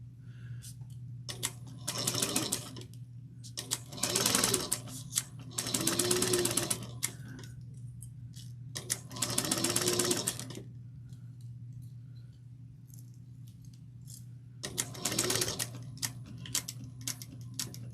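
A sewing machine stitches a 1/8 inch seam on a fabric bag in short separate bursts of fast rhythmic clatter, about five runs with quiet gaps between, close and fairly soft.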